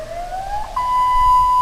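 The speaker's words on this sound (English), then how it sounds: "You hear the siren? Well, because Sarnia here, we have all the chemical plants." A weekly siren in Sarnia, sounding among chemical plants: a loud, steady wailing tone that climbs in pitch, then holds, with no voices over it.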